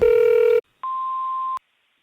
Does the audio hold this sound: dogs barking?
no